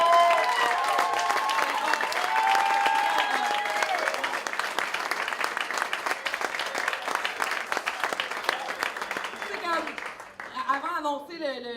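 Big audience applause at a cabaret festival show, loud sustained clapping and crowd noise filling the room before fading toward the end, where a voice begins speaking over the tail of the clapping.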